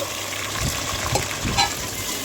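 Whole spices, including star anise, mace, marathi moggu and cardamom, fry in a pan for prawn biryani, giving a steady, soft crackling sizzle with a few sharper pops, close and continuous throughout.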